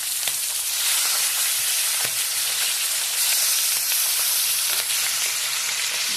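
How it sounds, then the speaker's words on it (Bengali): Fish frying in hot oil in a home kitchen, a dense, continuous sizzle with bubbling crackle and occasional sharper spits, close and steady the whole way through, no voices. "মাছগুলো ভেজে তুলে নিয়েছি।"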